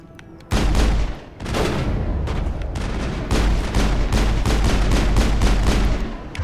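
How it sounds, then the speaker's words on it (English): Pistol fire in Mass Effect, during combat on Eden Prime. After a short quiet lead-in, loud shots crack out in rapid, overlapping bursts that blend into near-continuous gunfire. "Why am I using my pistol?"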